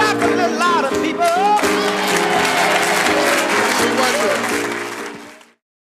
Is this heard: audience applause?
yes